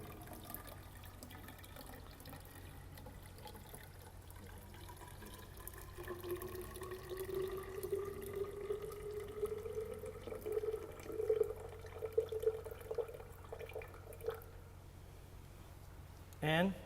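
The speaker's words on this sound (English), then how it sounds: "In our second column, we're going to add 800 milliliters of wastewater." Wastewater is poured into a settling column, giving a soft, steady trickle of liquid that builds in the middle of the pour before ending with a short knock.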